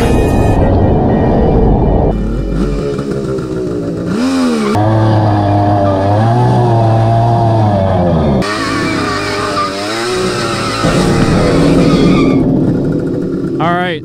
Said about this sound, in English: that's the last burnout ever on this bike for me.